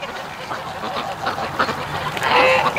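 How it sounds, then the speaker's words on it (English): A small group of domestic ducks quacking outdoors, overlapping calls that swell louder toward the end, close by and continuous with no talk. "There's a little group of ducks there, just a calling."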